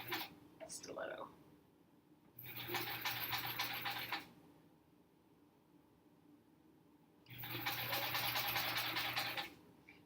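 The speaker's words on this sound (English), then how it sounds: "I still find myself having to really concentrate on sewing a straight line still" A sewing machine stitching a quilt block, heard as two steady, whirring runs of several seconds each, separated by a quieter pause, with a short clatter of handling at the start.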